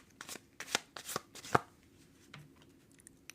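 Tarot del Fuego deck being shuffled and cards drawn, a series of sharp close card slaps and riffles in irregular bursts, fading to faint handling near the end.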